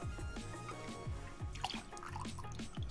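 Falernum spice syrup, 30 ml, is poured for a cocktail, heard as a light run of close liquid drips and trickles falling in quick succession.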